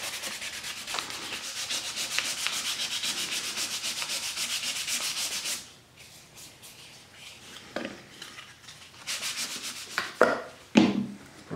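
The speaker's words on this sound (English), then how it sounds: "So I sanded everything to 400." Hand sanding of small scrap-wood hair clips up to 400-grit paper: steady, close rubbing strokes at first, then quieter intermittent scrapes and light handling knocks near the end.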